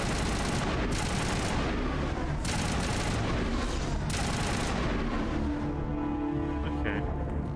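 Gunfire in the Mass Effect video game rips out in long, dense automatic bursts broken by brief pauses, loud and close, then fades into softer game sounds.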